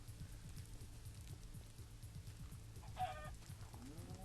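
Minecraft chicken clucking in short repeated low bursts, moderately faint, over a steady in-game ambient background with no talking.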